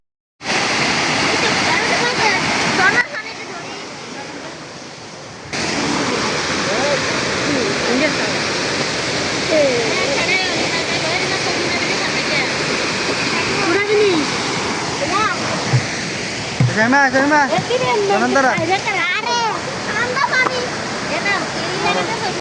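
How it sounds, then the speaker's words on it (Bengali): A waterfall at Mahamaya Lake in Chattogram, swollen by heavy rainy-season flow, gives off a loud, steady rushing roar close by. Brief gusts and a few splashing bursts sound over it, and no one speaks. "আপনারা কি ঝর্ণার আওয়াজটা শুনবেন? তাহলে শুনুন।"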